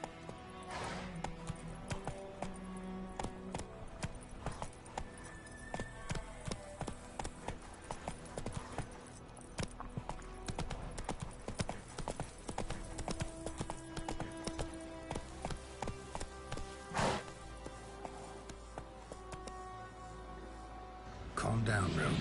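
Hooves of Roach, a horse in The Witcher video game, clip-clopping in a steady rhythm under in-game music and sound, with someone talking over it.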